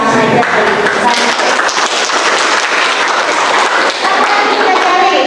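A classroom of students claps together in a counted pattern of one, two or three claps, loud and close, with dense clapping and a voice heard along with it.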